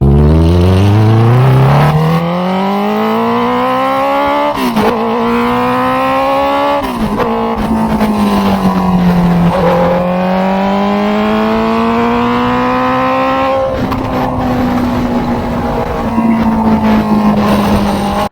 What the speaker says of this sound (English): a first ride on a Honda CB650F, and as you saw, it was an absolute giggle